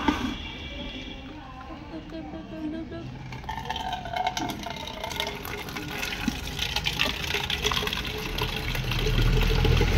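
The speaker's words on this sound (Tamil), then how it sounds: "சரி குடத்திலே தண்ணி பிடிச்சிருவோம்" Water runs steadily from a tap into a water pot, rising slightly in pitch as it fills, with people talking over it.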